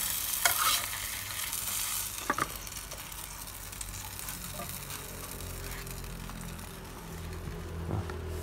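Bánh xèo, the Vietnamese sizzling pancake, fries in a pan over a gas stove that it keeps sticking to. A continuous crackling sizzle runs throughout, broken by a few sharper scraping or stirring clicks near the start and the end.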